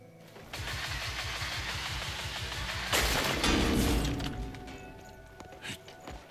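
A mining drill in the Crimson Desert video game starts up at an iron ore spot: a steady pulsing mechanical engine chug runs throughout, swelling into a louder grinding burst midway, then easing off with scattered clanks.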